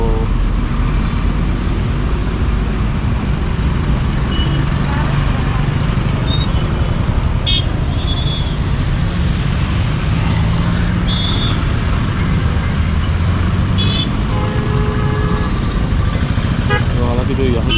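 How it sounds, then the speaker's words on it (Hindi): Busy street traffic in Kathmandu: a constant roar of cars and motorcycles with repeated horn toots scattered throughout, close and loud, while someone talks over it. "इस समय जो है वो यहाँ की ट्रैफिक जा रही है"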